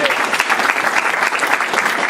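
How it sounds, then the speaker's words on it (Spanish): Audience clapping for Raúl at an international seminar in Texas, a dense, loud burst of applause sustained for a couple of seconds with crowd noise mixed in. "un aplauso para Raúl"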